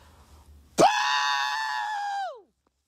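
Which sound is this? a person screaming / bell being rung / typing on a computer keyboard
a person screaming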